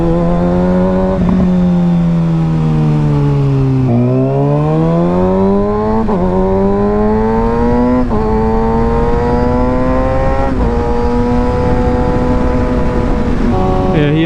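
A motorcycle rides along a road, loud and close throughout. The engine drone rises in pitch with each acceleration and drops at every gear change, repeating several times.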